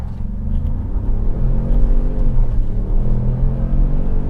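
A 2021 Ford F-150 Lariat EcoBoost pickup accelerates hard at full throttle, giving a deep, loud, continuous engine rumble and drone heard from inside the cab, with no speech.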